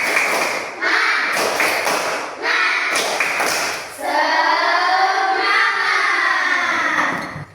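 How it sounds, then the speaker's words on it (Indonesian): A morning class of schoolchildren claps together in a quick, rhythmic pattern of sharp hand bursts, then breaks into a loud, sustained group shout, all close and filling the room. "Satu kali tepuk semangat."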